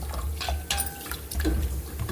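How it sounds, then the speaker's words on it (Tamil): Ponnanganni spinach greens are rinsed in water, producing soft sloshing and splashing with a few sharper drips, close by and without talk. "கீரையை நல்லா தண்ணி ஊற்றி அலசிட்டு"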